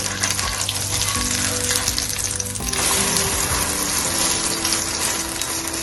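Malpua pancakes fry steadily in a pan, a continuous loud sizzle with a brief surge of bubbling about midway, no voices over it.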